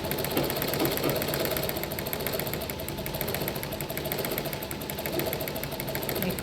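A sewing machine stitches a silk pattu lehenga for a two-year-old, giving a steady, close mechanical whirring hum that runs unbroken throughout with no pauses.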